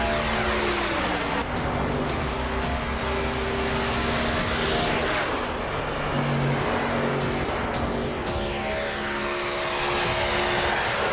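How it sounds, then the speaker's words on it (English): NASCAR trucks in iRacing roaring past on an oval, loud sustained engine drone with pitch sweeps as vehicles pass close, occasional tire-squeal-like whine, continuous and dense throughout. "Trucks rolling on through."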